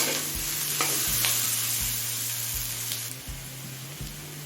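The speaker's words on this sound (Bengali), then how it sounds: "আলু গাজর আর পেঁয়াজটা হাই ফ্লেমে আরও চার পাঁচ মিনিট ভেজে নিয়েছি" Potato, carrot and onion fry on high flame for a cabbage dish, with a constant sizzle and a regular scraping stir every second or so, close and steady.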